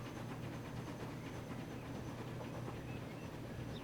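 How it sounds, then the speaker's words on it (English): A train sails past in the Transport Fever video game on an Alps map, a steady, continuous rumble with rolling rail noise and a faint hiss, no voices. "This should pay off very nicely as it goes sailing past in that way that trains frequently sail."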